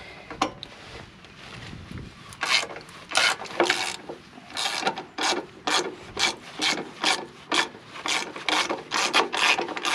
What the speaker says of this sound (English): So I'm going to try to take off this bolt really quick.